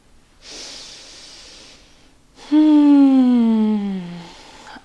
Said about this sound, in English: Take 1 more breath